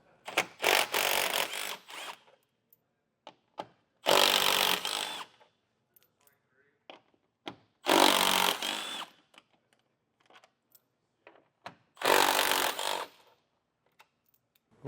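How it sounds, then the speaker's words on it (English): Power tool spinning out four 10mm bolts while fitting a Roadmaster crossbar-style base plate kit, four loud, close whirring bursts of about a second each, evenly spaced with quiet pauses between. "we can remove our 4 10mm bolts"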